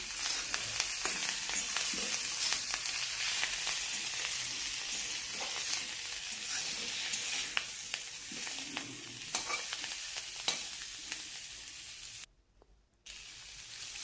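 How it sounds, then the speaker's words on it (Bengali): Fish curry with cauliflower sizzles and fries in a pan while it is stirred, a steady close crackle with occasional scraping and a brief drop near the end. "পরিমাণ মতো লবণ, সামান্য ধনে পাতা দিয়ে একটু করে সামান্য নেড়ে নেব।"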